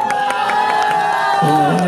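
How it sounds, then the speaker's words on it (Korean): A crowd cheers and whoops at a concert by an idol group. Shouting voices with a few claps sound loud and close, with high excited calls rising over the noise. "다시 한번 뜨거운 박수 한번 부탁드립니다."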